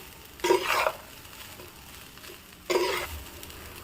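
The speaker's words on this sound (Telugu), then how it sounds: "చికెన్ పీసులు, ఎగ్, వెజిటేబుల్స్, మిరియాల పొడి, సోయా సాసు మొత్తం రైస్ పట్టేలాగా మొత్తం మిక్స్ చేయాలి" Chicken fried rice with egg, vegetables, pepper powder and soy sauce is stirred in a pan, two short bursts of scraping and sizzling separated by a quieter pause, near and alone.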